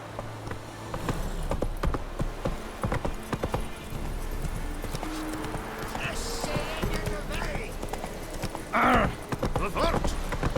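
Roach the horse gallops in The Witcher 3, a brisk clip-clop of hooves with a short neigh near the end, all mixed under game voices and ambient sound.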